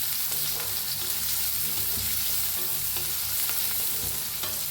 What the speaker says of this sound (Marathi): हलवून छान लालसर होसर कांदा भाजून घेऊया.